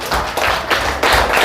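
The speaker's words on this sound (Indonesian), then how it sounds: "kasih tepuk tangan untuk kelompok biru" A group in a classroom claps for the blue team, a brief burst of fairly loud, irregular hand claps with little else around it.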